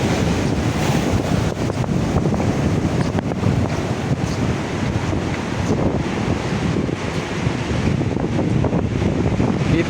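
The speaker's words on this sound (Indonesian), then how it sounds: "Agak susah ngelempar, pertama angin kencang, kedua dorongan ombak." Strong wind buffeting the microphone and waves surging onto a fishing shore, a loud continuous roar of rushing air and breaking surf with no pauses.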